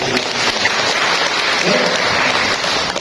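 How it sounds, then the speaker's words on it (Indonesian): Dense applause from a crowd at a BKKBN event in East Java fills the whole stretch, steady and loud with no break. "boleh berikan tepuk tangan yang meriah"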